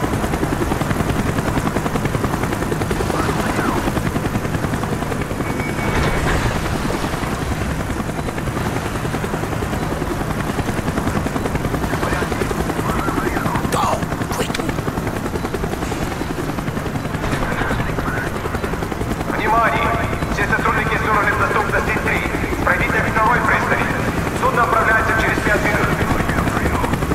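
Helicopter in the video game Call of Duty Black Ops, a loud continuous rotor drone filling the whole stretch, with bursts of gunfire and game sounds layered over it.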